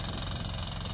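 A diesel MTZ Belarus tractor engine idles steadily, a low rumbling chug with rhythmic knocking, close by and fairly loud with no voices.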